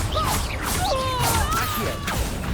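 A Confringo spell is cast in the Hogwarts Legacy video game, with swishing magical whooshes and gliding, pitch-bending tones that rise and fall over a dense, constant bed of game sound.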